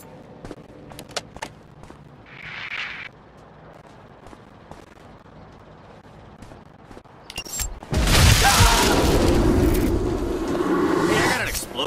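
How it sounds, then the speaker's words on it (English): A loud, dense explosion in the stealth game Hitman Absolution erupts about two-thirds of the way in and keeps roaring and rumbling to the end, after quieter game ambience with scattered sharp clicks and a brief hiss. "I got an explosion down here."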